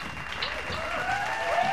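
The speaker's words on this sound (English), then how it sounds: "Everybody clap their hands." A small home audience claps along during a playful family cooking show, steady close-up clapping that builds slightly over the short stretch, with faint tonal sounds drifting above it.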